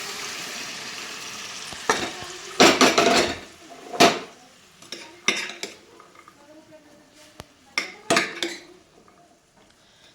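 Cooked black val beans being stirred into a spicy curry in a metal pan, with repeated scraping clatters and clanks of a spoon against the pan and light sizzling between strokes.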